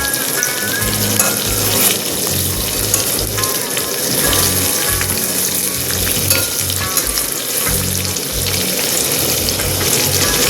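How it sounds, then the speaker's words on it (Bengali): Loud, continuous sizzling of boiled potatoes frying in hot oil, with occasional stirring and scraping sounds and a constant crackle close by. "হালকা ব্রাউন করে ভেজে নিতে হবে"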